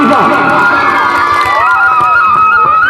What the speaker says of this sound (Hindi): और तालियों से स्वागत करें सुदामा और कृष्ण